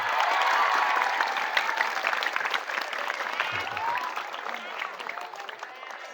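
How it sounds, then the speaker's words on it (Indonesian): Crowd of students and teachers at an Islamic boarding school applauding a religious teacher, a dense sustained wash of clapping that starts loud and gradually tapers, with faint voices mixed in. "Tepuk tangan buat Ustadz kita"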